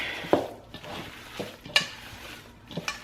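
Mozzarella meatball mixture being kneaded and folded by hand, giving soft, wet squishing and squelching at close range with a few sharper pats, quiet and without talk.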